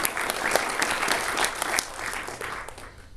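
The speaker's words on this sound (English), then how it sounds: "Round of applause for SoGiftIt" An audience applauds a startup pitch team, a lively burst of clapping with sharp individual claps standing out, strong at first and gradually thinning toward the end.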